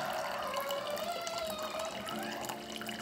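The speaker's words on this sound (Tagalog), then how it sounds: "Lagyan natin guys ng tubig." Water pours steadily into a cup to make coffee, its tone rising gently as the vessel fills, close and continuous for a few seconds.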